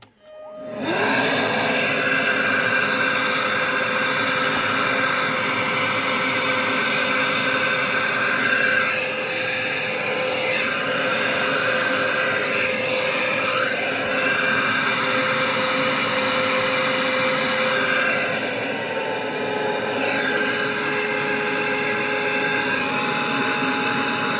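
An Einhell TE-HV 18/06 Li cordless vacuum cleaner starts up abruptly and runs continuously with a steady, high-pitched whine and airy motor hum, heard close and alone for over twenty seconds.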